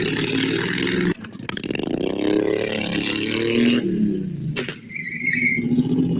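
A loud vehicle engine revs hard and close, its pitch climbing and falling across several throttle blips, with a brief sharp cut in the middle and a high squealing tone near the end.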